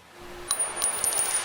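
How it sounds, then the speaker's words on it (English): A small metal bullet casing dropping onto concrete as a music production effect, giving a brief bright clink followed by a few rapid light bounces that fade. "So that's the sound of a bullet dropping concrete."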